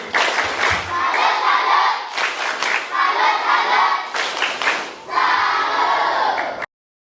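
A group performs a rhythmic salute clap at a scout jamboree gathering, loud bursts of clapping mixed with group shouts in several repeated phrases before stopping abruptly.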